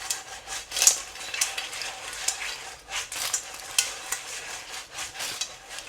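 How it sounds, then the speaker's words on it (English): Spatula stirring garlic prawns and clams with spring onions in a hot pan, a steady run of scraping clinks over a soft sizzle, close and moderately loud, no voices. "We'll add in the rest of our spring onions. Mix them up a little bit."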